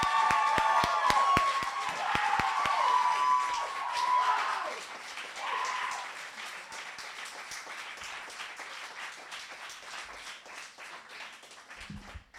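A concert audience applauds a performer, sustained dense clapping mixed with cheers and whoops at first, then thinning out and fading away over about twelve seconds.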